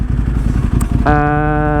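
A motorcycle engine, freshly rebuilt, chugs with a low uneven idle and then rises into a steady, harmonically rich drone, close and loud with no speech.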